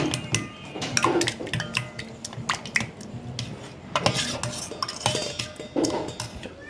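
Spoon clinking and scraping in a bowl while curd is stirred into a mixture, a series of irregular taps and clatters close by with no talk.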